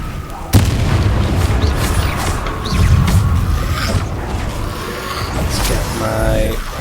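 Spell effects in the Hogwarts Legacy video game, including the Expelliarmus disarming spell, land as a sharp crack followed by booming bursts and rumbling impacts over steady in-game ambience.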